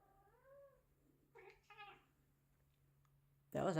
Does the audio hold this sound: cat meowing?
yes